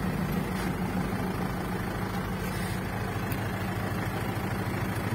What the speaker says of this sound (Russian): Двигатель вообще работает без каких-либо нареканий. Абсолютно ровно. Слышите, да, дизель как себя ведет?